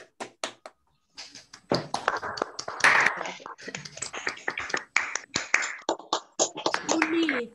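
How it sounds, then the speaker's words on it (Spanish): Scattered claps and taps from participants with open microphones close a talk at an online debate session on the right to the city and disability; the bursts are uneven and come mixed with voices and small handling noises. "Abrimos los micrófonos para un aplauso"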